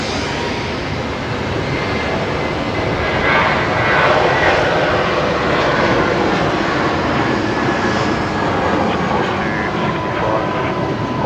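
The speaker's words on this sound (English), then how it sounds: "Jetstar 320 rolling here, Jetstar 569 heading off to Melbourne." Jetstar Airbus A320 jet rolling for takeoff at Brisbane Airport, a loud, sustained engine roar that swells slightly midway and holds steady throughout.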